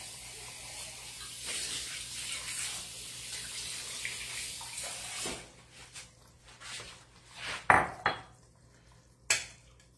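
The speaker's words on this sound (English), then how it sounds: "Let's rinse this off. Let's strain this stuff through" Rinsing and straining food in a kitchen sink under a running tap, a steady stream of water that stops partway through, followed by scattered clanks of dishes and utensils.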